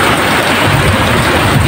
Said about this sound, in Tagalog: lakas na daling araw pa lang po pero ang lakas ng ulan